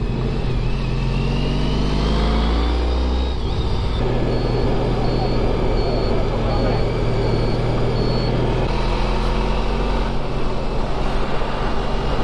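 Honda ST1300 motorcycle engine pulling in fifth gear on twisty winter roads, a steady loud low drone with wind rush, shifting in pitch as it accelerates, with a voice talking over it.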